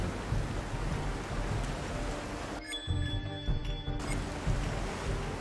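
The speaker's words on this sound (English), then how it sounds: "We're still standing out here in the rain." Rain from the video game Desperados 3 pours steadily on the New Orleans docks as a dense, continuous hiss of drops. The wash briefly thins for about a second midway, and no one talks.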